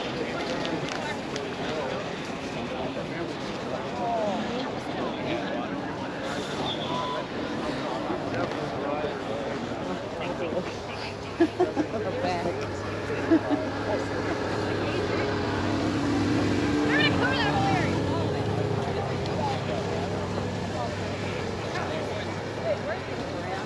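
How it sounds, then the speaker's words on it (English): Vintage snowmobile with a custom exhaust idling at an outdoor show, a steady rough engine rumble with a slight rise partway through, while people talk nearby. "Nice exhaust, custom exhaust."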